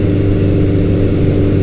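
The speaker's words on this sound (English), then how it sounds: "I love the sound of this bike." A Suzuki GS1100L motorcycle engine fitted with a full stainless exhaust idles or runs steadily, a loud, deep, even rumble close by with no talking.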